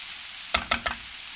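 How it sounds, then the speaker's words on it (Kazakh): Vegetables with sweet pepper frying in a pan for borscht, a soft steady sizzle broken by three quick stirring or scraping strokes in a row. "Міне қазір осы тәтті бұрышпен тағы кішкене қызартып қуырып аламыз."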